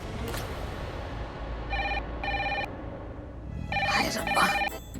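A telephone rings at night in a Hindi TV drama scene, two short ring bursts then a louder repeated ring over a steady background hum, with no talking.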